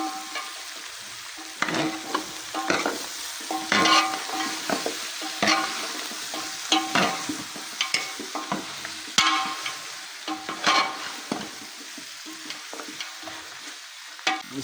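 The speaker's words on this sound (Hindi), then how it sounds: "दो दरमियाने साइज़ के प्याज डालेंगे इसमें।" Two medium onions sizzle and fry in a pot of beef paya curry, with steady crackling and repeated stirring scrapes throughout, close and moderately loud with no talking.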